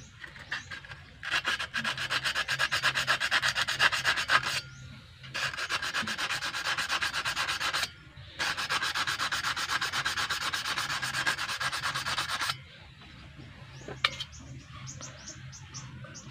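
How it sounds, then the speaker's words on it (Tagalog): A mini chainsaw engine part is rubbed with coarse sandpaper in long, steady, gritty strokes, close up, pausing briefly a few times before the final quieter stretch, with faint birds or crickets in the background. "Subukan nating lihain ng magaspang muna."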